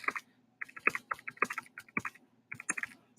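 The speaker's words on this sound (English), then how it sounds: "Sorry if you're hearing a lot of keyboard noise." Rapid keyboard typing in short bursts of clicking keys, close and fairly quiet, with brief pauses between runs of keystrokes.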